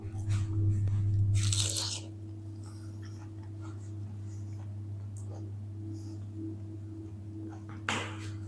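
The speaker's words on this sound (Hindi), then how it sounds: "अब हम ना एक पीस खा के चेक करते हैं।" Crisp bites and crunching on a fried snack made from leftover rice, semolina and potato, with a loud crunchy burst at the start and another brief crunch near the end, close up with no talking.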